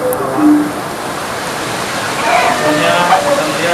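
A waterfall roars in a steady, loud rush of falling water, with faint voices and brief tones drifting in the background.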